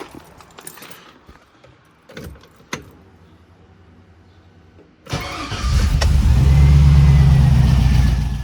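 Some clicks and knocks, then a car engine fires up after exhaust repair on exploded mufflers and settles into a loud, deep exhaust rumble that holds steady to the end.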